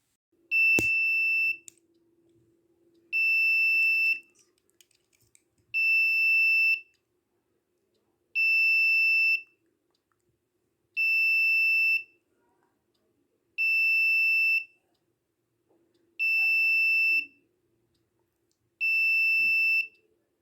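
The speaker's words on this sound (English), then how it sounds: "When the temperature will be increased from 40 degrees C, the buzzer will be turned on." An Arduino buzzer alarm, set off by a DS18B20 temperature sensor passing 40 degrees C, sounds eight evenly spaced loud electronic beeps, each about a second long, with a faint low hum between them.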